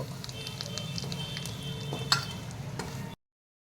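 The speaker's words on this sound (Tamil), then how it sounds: "இப்போ இந்த ரவையை இந்த கடாயில் சேர்த்து லைட்டாக வறுத்து எடுத்துக்க போகிறேன்" Semolina (rava) roasting in a kadai for apple mango kesari. Soft, quiet scraping and stirring with faint crackles and a few light ticks, then a sudden cut to silence.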